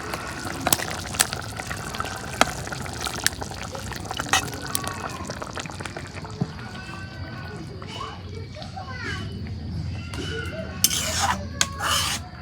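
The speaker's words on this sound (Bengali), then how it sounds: "এই যে মাংস ধুয়ে রাখছিলাম দিয়ে দিই।" Washed chicken pieces go into a pan of fried spices while cooking chicken with cauliflower, giving wet scraping, rattling and pouring sounds with occasional sharp clinks and a sizzling burst near the end.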